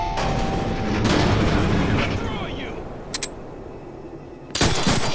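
Gunfire in the Deadpool video game comes as loud sharp blasts at the start and end with a couple of quick cracks between, mixed with game effects and talk.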